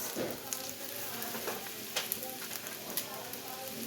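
Shredded cabbage and onion fry in a pan with a steady, close sizzle, broken by a few sharp clicks and scrapes of stirring.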